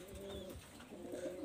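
Pigeons of a Teddy breed line in a Bangladeshi breeder's loft coo in low, rolling murmurs, steady and fairly close, with no voices.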